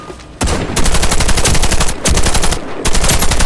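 Sustained automatic gunfire from a Warface online team match on Xbox 360, loud and near, in dense rapid bursts broken by two short pauses.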